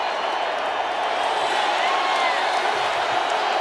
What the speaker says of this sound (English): Listen to the roars.